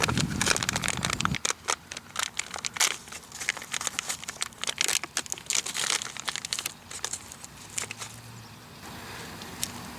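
Plastic-wrapped Datrex emergency ration bars are torn open close up, with continuous crinkling, crackling and ripping of the wrapper over about ten seconds and no talking.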